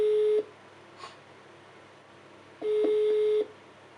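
Telephone call connecting tones: a steady beep sounds, stops, then repeats about two seconds later, with faint background hiss between.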